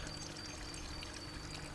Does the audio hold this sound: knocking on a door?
no